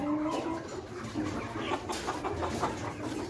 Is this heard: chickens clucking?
yes